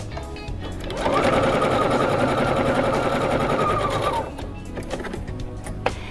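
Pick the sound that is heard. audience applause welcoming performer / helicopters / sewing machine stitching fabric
sewing machine stitching fabric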